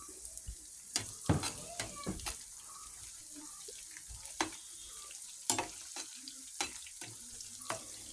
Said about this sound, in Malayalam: ഇനി ഈ ഇഞ്ചിയും വെളുത്തുള്ളി മീഡിയം ഫ്ലെയിമിലിട്ട് നമുക്ക് മൂപ്പിക്കാം